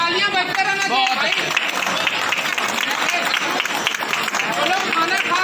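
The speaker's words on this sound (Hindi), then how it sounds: "भाई, तालियां बजते रहना भाई।" Dense, steady clapping from a crowd gathered at a hospital event, loud and continuous throughout with chatter mixed in.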